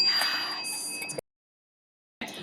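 A hand bell rings briefly as a dog-conditioning demonstration, a bright clear tone lasting about a second before a pause, then ringing again at the end.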